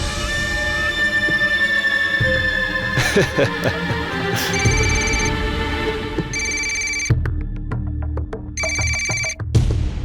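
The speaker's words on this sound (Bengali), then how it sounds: "আরে ফোনটা কেন ধরছো না তুমি?" A telephone rings with repeated bursts of an electronic ringtone, loud and close, over a busy background of other sound.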